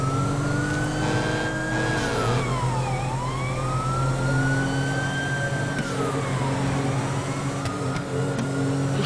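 Police sirens in a video game as cops arrive at a gathering of customised cars, loud wailing tones sweeping up and down twice over a low engine rumble, with no talk.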